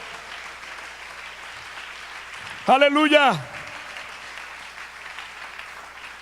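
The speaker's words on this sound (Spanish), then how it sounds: "Bríndeles aplauso al Rey de la Gloria en esta hora." A church congregation applauds softly and steadily in the background, and a voice rings out with a brief loud exclamation partway through.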